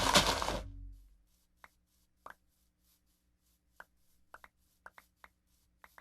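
Grass being mowed in Minecraft gives a brief dense rustling burst, then a sparse run of short, crisp snipping clicks spaced irregularly, fairly quiet against silence.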